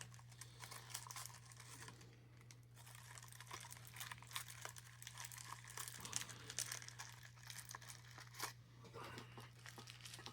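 Old waxed paper wrapping around a Victorinox OneFold Alox pocket knife crinkles and crackles in quick, uneven bursts, close and fairly faint, with soft speech in the background.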